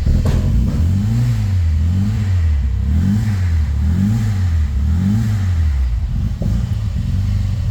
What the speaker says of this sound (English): it's a really nice, quiet engine